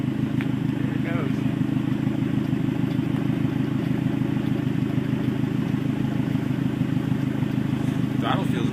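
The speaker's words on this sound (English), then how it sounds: "Throttle feels good, sir. No more sputter." A vehicle engine running steadily after a Sea Foam fuel-system treatment, a smooth continuous hum without sputter, fairly close, with faint clatter on top.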